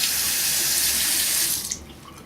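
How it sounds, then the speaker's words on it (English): A razor blade rinsed under a running tap during a shave, a steady rush of water for about two seconds before it cuts off abruptly. "Rinse the blade and do the other side real quick."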